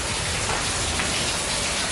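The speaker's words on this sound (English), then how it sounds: "It's kind of refreshing because the rain here is warm." Heavy warm rain pours down steadily in a dense, loud, continuous hiss with no pauses, heard up close with no voices.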